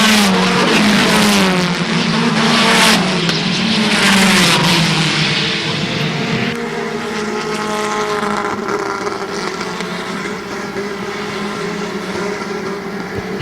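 Stock cars racing on an oval speedway at an evening fall classic, engines roaring and revving loudly as a pack sweeps past, pitch rising and falling continuously with a crowd-wash backdrop throughout.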